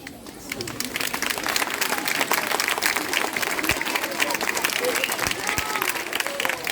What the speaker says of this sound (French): Je vous promets de lui transmettre vos applaudissements